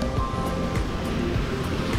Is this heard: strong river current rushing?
yes